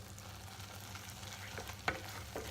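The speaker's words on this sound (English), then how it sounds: "So they'll go in, mix them up." Dark chocolate buttons being stirred into warm, sizzling flapjack mixture in a pan, a steady soft frying hiss with scraping stir strokes and one sharper clack near the end.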